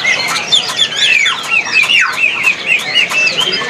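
A green leafbird at a bird market calls with bright, rapid whistles and chirps that repeat quickly and overlap. The calls stay loud and close, set against faint background noise.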